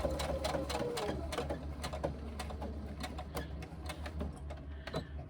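A sewing machine stitches a tote body piece with a 1/4 inch seam, a fast steady mechanical whir with rapid needle ticks, close and clear throughout.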